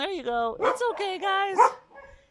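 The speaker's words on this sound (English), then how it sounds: "you will not get by here without her dogs alerting her, which I think is fantastic" Dogs on a farm bark and yip in quick bursts, close and loud, with a whimper mixed in, while a person talks over them.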